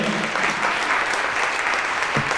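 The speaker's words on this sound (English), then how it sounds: "So another round of applause for those gentlemen for presenting today." Room of attendees at a city club State of the City gathering applauds the presenters, a brief, loud, continuous burst of many hands clapping together.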